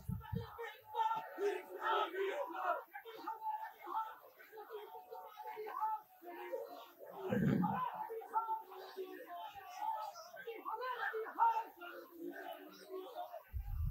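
A large crowd at a religious gathering roars Allahu Akbar in response, a loud, sustained mass of shouting voices that rises and falls.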